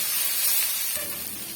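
A large chopped tomato sautéing in a hot pan gives off a steady, bright hiss and sizzle, loud and continuous throughout with no talking over it.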